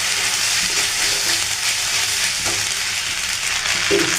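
Onion and vegetables for a vegetable pasta sizzle steadily in a frying pan while a utensil stirs and scrapes through them, with a few soft clinks over the close, continuous frying.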